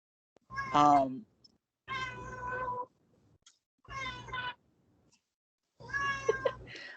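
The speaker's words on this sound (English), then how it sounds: "Sorry, that was our cat." A cat meows four times, drawn-out and wavering, each call lasting about a second with short silences between, picked up close to a microphone.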